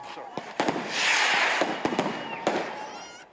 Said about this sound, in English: Fireworks were let off to pay tribute while crowds of people gathered with balloons, flowers and messages of condolence.